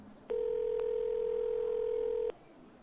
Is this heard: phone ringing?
yes